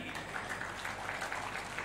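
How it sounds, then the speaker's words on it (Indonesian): Applause from the audience at the opening ceremony of MAP 2019, a tourism event, heard as a steady, moderately quiet patter of clapping that continues throughout. "Tepuk tangan sekali lagi."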